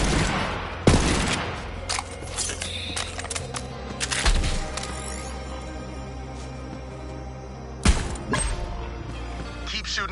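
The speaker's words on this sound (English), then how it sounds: "Keep shooting those marks, Vault Hunter." Gunfire in Borderlands 3: bursts of rapid shots and a few heavy blasts spread across the stretch, loud and close, with game voices talking among the firing.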